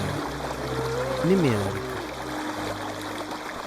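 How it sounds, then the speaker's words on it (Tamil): A waterfall rushes steadily in the background as a continuous wash of water noise, with a voice talking over it and soft tonal sounds. "பின்னால் அந்த அருவி சத்தம் காதுக்கு கேட்க"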